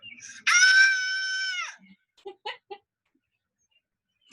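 A single loud, sustained scream lasting about a second, followed by a few short quieter vocal sounds, then silence.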